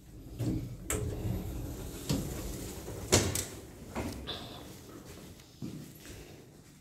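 Sliding doors of a 2014 Kone Monospace passenger lift at Broadgate near Liverpool Street, London, give a string of soft knocks and thuds at uneven intervals, with a quiet lift machinery hum underneath and no talking.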